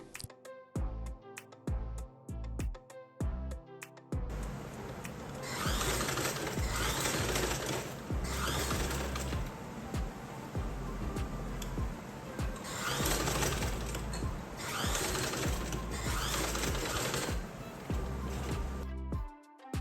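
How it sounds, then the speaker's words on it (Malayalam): A sewing machine stitches along the sides of a fabric tote bag. A few short start-stop bursts lead into a steady, close mechanical whirr that runs for over ten seconds before slowing to a stop. "അതിനുശേഷം നമ്മൾ 4 വശത്തും സ്റ്റിച്ച് ചെയ്ത് കൊടുക്കുകയാണ്."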